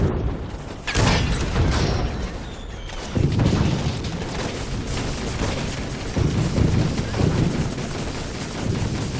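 Heavy howitzer shots in the World War I strategy game Toy Soldiers at Gheluvelt Chateau boom out in a spaced series of loud, low blasts over a rumbling battlefield backdrop.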